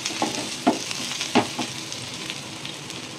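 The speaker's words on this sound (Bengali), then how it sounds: "পেঁয়াজগুলো হালকা ফ্রাই হবে, বেশি ফ্রাই করবো না, হ্যাঁ, শ্যালো ফ্রাই করবো।" Sliced onions shallow-fry in a pan, with a steady sizzle and several distinct spatula stirs and scrapes. The sound is close and there is no talk.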